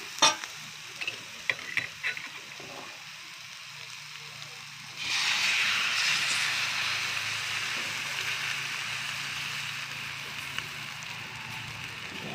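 An egg is added to a hot pan and stirred as it fries, giving a few clinks of the utensil followed by a sudden loud sizzle that keeps hissing steadily up close.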